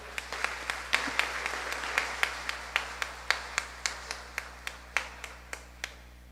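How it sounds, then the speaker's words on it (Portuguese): An Easter Mass congregation in church claps in steady unison, with evenly spaced claps running through the whole stretch at a moderate, slightly distant level and no voices over them. "Salve de palmas ao Santo Evangelho."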